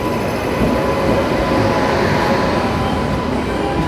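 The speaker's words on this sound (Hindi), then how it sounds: "तो ये आ गई दोस्तों दिल्ली सराय रोहिला जम्मू तवी दुरंतो एक्सप्रेस" Delhi Sarai Rohilla–Jammu Tawi Duronto Express arriving at a station platform, a loud, continuous rumble and rolling roar of the train close by.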